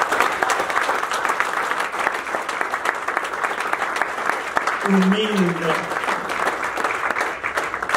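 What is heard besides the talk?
congregation applause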